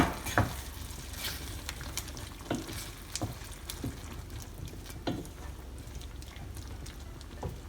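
Crushed peanut powder and red chili powder stirred into a green tomato curry in a pan, with a steady low sizzle under repeated scraping strokes of a spoon, close and moderately quiet.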